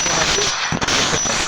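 Gunfire in a shooting video game sounds as a few sharp, close shots, the strongest burst in the middle, over a steady hiss of game ambience.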